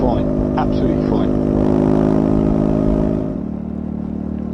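Triumph Scrambler 400X motorcycle engine droning at sustained motorway speed, a steady buzzing hum with wind rush, dipping slightly in pitch and level near the end.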